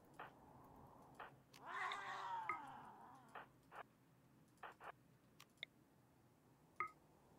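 Cats in the RimWorld video game let out a drawn-out, whiny meow, set among sharp clicks and brief taps. The sounds come quietly and sparsely over a faint background hum.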